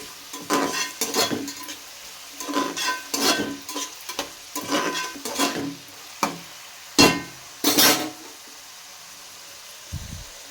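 Ginger garlic paste sizzling in a pan as a spoon stirs it, repeated scraping strokes in uneven bursts over a low sizzle, close by and without talk.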